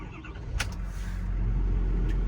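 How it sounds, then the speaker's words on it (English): A 2016 Ford F-550 crane truck engine turns over with a short burst of cranking, then settles into a steady, close, low rumbling idle that grows slightly louder toward the end. No voices. "Truck starts right up,"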